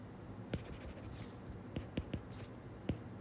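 A pen scratches out a math expression on paper, a faint run of short strokes and taps with a few sharper marks spread across a few seconds and no voice over them.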